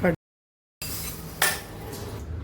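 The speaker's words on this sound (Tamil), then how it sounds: "இப்போ கடுகு உளுத்தம்பருப்பு போட்டு தாங்க தாளிக்க போகிறேன்." Mustard seeds and urad dal being tempered in a pan, with metal clatter of pan and utensils and a soft sizzle, broken by a short silence then a sharper clink.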